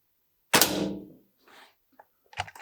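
Kral NP02 air rifle with a laminate stock fired on a range: one sharp, loud shot rings out and decays, followed by faint mechanical clicks and handling noises from the rifle.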